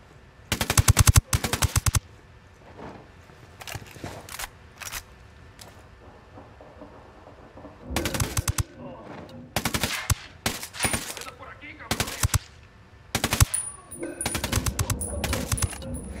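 Automatic rifle gunfire in a firefight in the Ghost Recon Wildlands video game, loud close bursts of rapid shots separated by quieter gaps, with scattered single shots and clinking.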